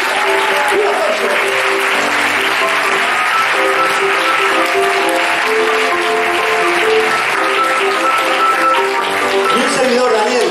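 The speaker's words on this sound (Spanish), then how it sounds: "Un aplauso." A theatre audience claps loudly and steadily throughout, with dense, sustained applause and a few voices cheering within it.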